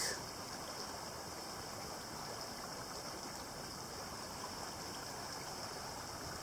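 Sonoma Creek in Pershing County, Nevada, flows in a steady, rushing babble of water, constant and fairly close, with no voices over it.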